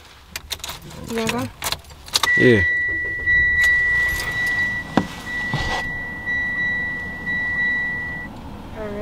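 Keys jangle and a car is started, with electronic warning beeps and a sustained chime tone over a low motor rumble, while people talk nearby.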